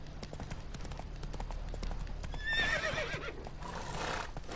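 Roach the horse in The Witcher 3 gallops with steady hoofbeats, and a whinny rises midway, all moderately loud under faint game background sound.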